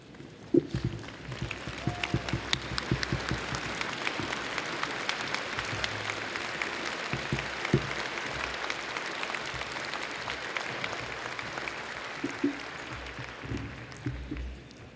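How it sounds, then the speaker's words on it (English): A graduation audience rises to give a standing ovation, a long, dense wash of clapping at a moderate level lasting about fifteen seconds, with some shuffling and footsteps as people stand. "having everybody stand and give him a round of applause"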